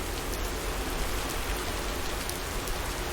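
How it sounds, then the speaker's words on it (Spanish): Steady rain in a video game hisses without a break, dense and fairly soft, like drops falling on a hard surface. "Me gusta la lluvia, o sea,"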